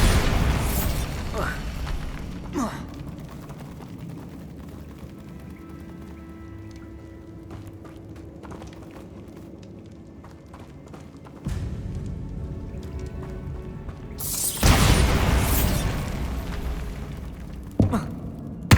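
Bombarda spell explosions from the video game Hogwarts Legacy: loud booming blasts burst near the start and again toward the end, with a quieter stretch of ambient game sound and mechanical clatter between them.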